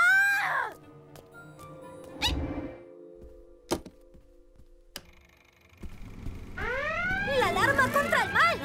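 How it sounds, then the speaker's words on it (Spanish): Cartoon superhero alarm from DC Super Hero Girls: a warbling, sweeping siren that swells in loudly after a few sharp thuds and ticks, with a brief voice early on. "¡La alarma contra el mal!"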